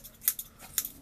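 Scissors snip hair in a few sharp metallic clicks, quiet and close, with no talk.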